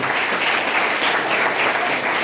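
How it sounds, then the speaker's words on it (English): Loud, sustained applause fills the hall as the audience claps for the participants of a boys' high school debate competition, a continuous dense roar of many hands with no pause. "Big round of applause for both all the participants"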